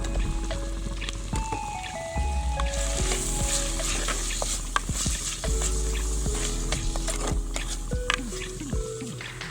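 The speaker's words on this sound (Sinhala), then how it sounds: "මේ තක්කාලි ටික තෙලේ ටිකක් කරලා බැදෙන්න දෙන්න ඕනි." Three chopped tomatoes frying in hot oil in a pan for a banana blossom curry, giving a steady close sizzle with crackles and pops plus occasional clinks and scrapes of stirring, no talk.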